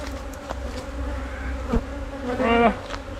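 Honey bees buzz steadily around a beehive during a spring honey harvest, a dense continuous drone with a few louder passes close by, one sweeping near the end.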